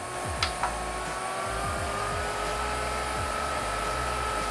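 A steady, loud whooshing fan roar from an Arctic Air Pure Chill 2.0 air cooler on turbo mode runs continuously, a strong airflow hum with a couple of faint clicks near the start.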